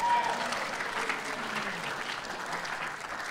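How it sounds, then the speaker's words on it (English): A church congregation at a Sunday service claps their hands in praise, a brief burst of crowd clapping with voices faintly mixed in. "give the Lord a hand clap of praise."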